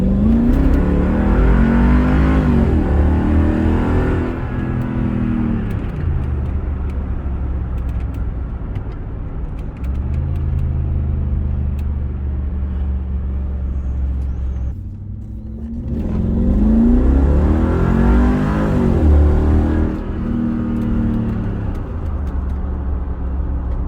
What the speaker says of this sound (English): So the car's nice and quiet and well insulated until you actually put your foot down.